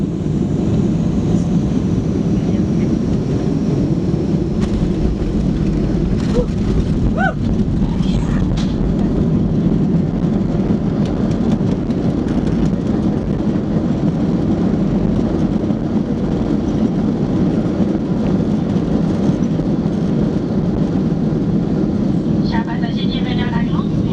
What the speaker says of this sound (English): looking forward to seeing those bucket thruster forces in action